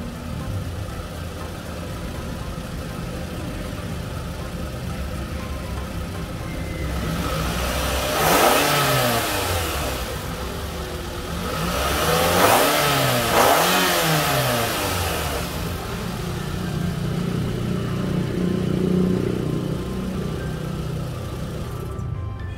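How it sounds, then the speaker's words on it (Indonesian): Car engine revved after its aftermarket air filter was cleaned: a steady idle broken by two or three sharp throttle blips that climb and fall back, close and fairly loud, with no talking. "Sekarang coba kita gas ya."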